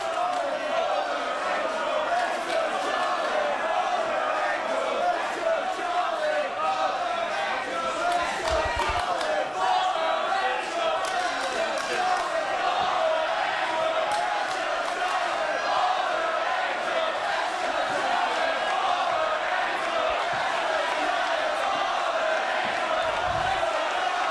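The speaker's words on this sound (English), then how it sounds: "This crowd reaction is just surreal. I have never heard anything quite like this atmosphere" Wrestling crowd at a 1PW No Turning Back show in Doncaster, England, a dense, sustained roar of cheering and chanting that stays loud and steady throughout, with no break.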